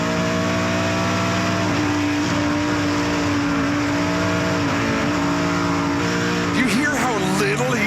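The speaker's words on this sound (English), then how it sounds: "he's off the throttle there, just little burps here and there through that high-speed turn" A NASCAR Pinty's Series stock car lifting off the throttle through a high-speed turn, its loud engine droning steadily before sputtering and burbling near the end.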